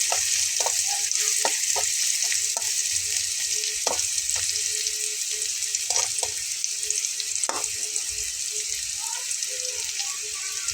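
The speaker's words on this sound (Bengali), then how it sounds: "একটু লাল করে ভেজে নেব বন্ধুরা পেঁয়াজটা ভাজা হতে হতে" Steady sizzling of finely chopped onions frying in hot oil for lentil curry, a constant crackling hiss with occasional clicks and light scraping of a utensil.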